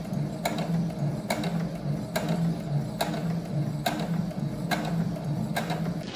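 A sewing machine runs steadily, stitching an upcycled dress, its mechanism clicking in a regular rhythm with a sharp tick about every second over a continuous whirring hum, close and fairly loud with no voices.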